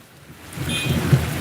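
A monsoon thunderstorm over Anand brings a low rumble of thunder rising over heavy rain pattering steadily, moderately loud and building through the short stretch.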